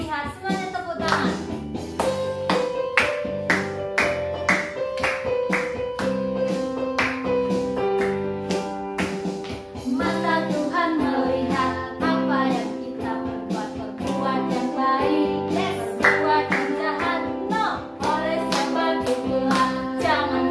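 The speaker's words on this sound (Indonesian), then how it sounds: "Semuanya tepuk tangan." A Sunday school worship service congregation claps along in steady rhythm to a sung worship song, the hand claps keeping time under singing voices and music.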